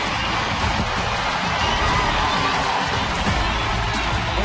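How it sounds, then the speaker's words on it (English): Hockey arena crowd at a PWHL game, Boston Fleet at Vancouver Goldeneyes, roars after a goal, a dense sustained wall of cheering that stays loud throughout. "This crowd is rocking, and you felt it."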